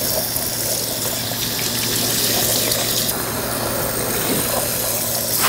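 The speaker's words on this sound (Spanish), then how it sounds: "Déjenme echarme agua, esperen." Running water pours and splashes steadily, as from a tap while someone rinses a peel-off face mask off their face, continuous and close with no talking.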